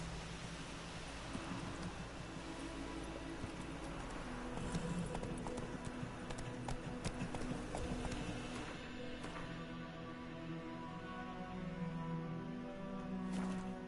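Roach, the horse in The Witcher 3, gallops with steady, rhythmic hoofbeats that continue throughout over soft sustained background tones.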